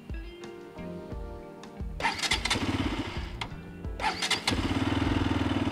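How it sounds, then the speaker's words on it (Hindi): A Bajaj Pulsar RS 200 motorcycle engine cranks twice with a starter whir; the first attempt dies out, the second catches and settles into a steady, close idle. "आइए अब इस बाइक को स्टार्ट करते हैं और इसका इंजन साउंड सुनते हैं।"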